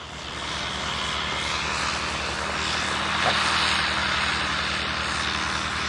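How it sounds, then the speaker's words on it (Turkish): An airplane drones steadily overhead as a broad, even engine rumble with a low hum. The sound stays fairly faint and builds slightly partway through. "Oha gerçek uçak var orada."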